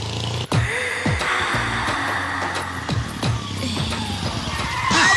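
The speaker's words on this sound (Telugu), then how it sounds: "అదేంటంటే అన్సడన్ బ్రేక్ వేశారు" A vehicle brakes suddenly and skids on a village road, a harsh tyre screech sweeping across the clip amid loud, busy background noise.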